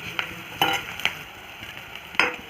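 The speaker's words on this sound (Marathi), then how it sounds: "आणि छान परतून घ्यायची सुगंध सुटेपर्यंत" Turmeric, coriander powder and a garlic-ginger-coconut paste sizzle in a pan while being sautéed for a monsoon bhaji, with a steady close frying hiss and a few sharp spoon scrapes and stirs.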